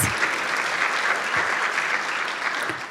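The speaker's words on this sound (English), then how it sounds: "let's give her a huge round of applause" An audience claps at a volunteer awards and recognition ceremony, producing dense, sustained applause that stays loud and even for the whole stretch, with faint crowd murmur beneath.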